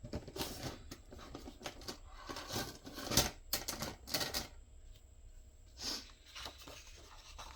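Paper torn by hand, several short, crisp rips and rustles with pauses between them, close and moderately loud, with no talking.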